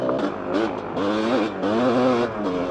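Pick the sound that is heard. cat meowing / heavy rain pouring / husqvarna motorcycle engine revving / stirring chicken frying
husqvarna motorcycle engine revving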